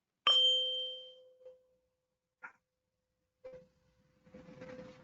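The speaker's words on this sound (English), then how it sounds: "something else that's done in hypnosis practice, but also meditation, is the ringing of a bell." A meditation bell is struck once, giving a clear ringing tone that decays slowly over about a second. Two fainter, brief taps follow, then a soft hum and light background noise. No one speaks.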